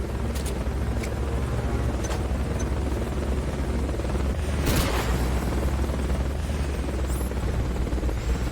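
A recovery helicopter in Metal Gear Solid: Peace Walker gives a steady, loud rotor drone with a deep low rumble throughout, and a brief whooshing swell midway.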